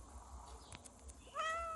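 A cat meows in the Crossy Road video game, a short faint meow followed by a louder, rising meow near the end, over quiet game background.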